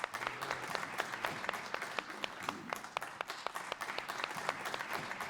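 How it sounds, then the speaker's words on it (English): Conference audience at an EMS keynote breaks into steady applause, many hands clapping at close range in a dense, sustained patter with some sharper individual claps standing out. "And a round of applause."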